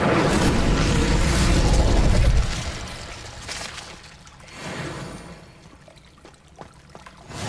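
Incendio fire spell cast in Hogwarts Legacy, a loud roaring whoosh of flame that rumbles for about two seconds, then fades into quieter crackling and a few smaller bursts.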